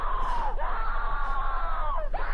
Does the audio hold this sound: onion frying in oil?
no